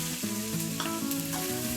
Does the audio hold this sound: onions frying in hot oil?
yes